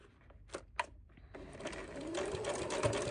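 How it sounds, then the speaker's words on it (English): A sewing machine stitching a fabric coaster: a few short clicks, then a steady, fast, close mechanical whirr that builds and keeps running. "I'm just letting the machine do most of the work, trying my best to just help gently glide it across."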